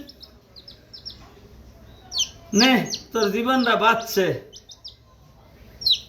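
A newly rescued chicken chick gives a few short, high chirps at the start and end, while people talk loudly in the middle.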